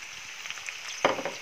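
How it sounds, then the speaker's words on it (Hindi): Tomatoes fry in a little oil over a high gas flame: a quiet steady sizzle that bursts louder about a second in, then settles into spattering crackle. "थोड़ा सा तेल में करेंगे फ्राई।"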